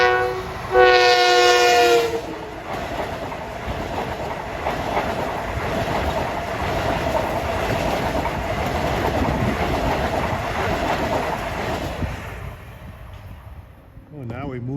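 A Long Island Rail Road M9 commuter train sounds its horn with a loud multi-tone blast, then rumbles past nearby for about ten seconds with steady clatter before fading away.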